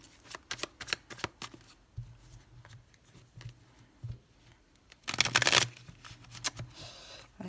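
Tarot cards being cut and shuffled for a Cancer love reading: scattered sharp card taps and flicks, then a dense burst of riffling around the middle, followed by a few more soft slaps, close and fairly quiet with no talking.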